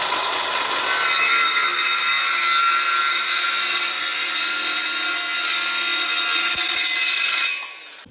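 A hand saw cuts through PVC pipe on a pool filter plumbing repair, a steady loud back-and-forth rasping that runs continuously for about seven seconds before stopping abruptly, with no talk.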